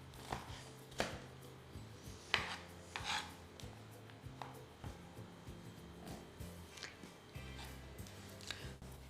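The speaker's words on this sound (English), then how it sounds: "Let's start by cutting the peppers into small pieces." A knife chops bell peppers into small pieces on a cutting board, giving steady close taps and scraping strokes at an uneven rhythm, alone with no talking.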